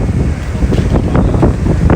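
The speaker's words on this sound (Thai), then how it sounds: "ตอนนี้ก็ลมแรงมากนะครับ" Strong wind at the seaside roars continuously into the microphone, a loud broadband rush that swells and buffets throughout with no voices.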